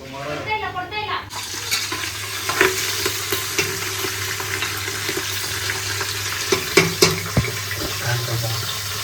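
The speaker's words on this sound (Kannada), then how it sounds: "ಇದಕ್ಕೆ ನಾನು ಇವಾಗ ಬಟಾಣಿ ಹಾಕ್ಕೊತೀನಿ" Green peas hit hot oil in a pan while cooking tomato bath, setting off a steady close sizzle. Stirring scrapes and occasional sharp clinks of the spoon against the pan run over the frying.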